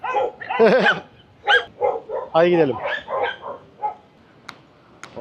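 Several dogs bark in a burst of loud, close, overlapping yaps and woofs, with some whimpering tones, on a Buenos Aires street in Argentina; someone speaks briefly among the barks.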